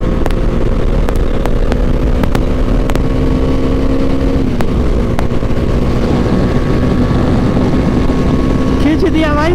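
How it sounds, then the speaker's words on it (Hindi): Kawasaki Ninja ZX10R superbikes accelerate hard on the road, a loud sustained engine roar with rising pitch, heavy wind buffeting and a sharp rev climb near the end, with people talking over it. "खींच दिया भाई, सारे सुपर बाइक्स खींच दिए"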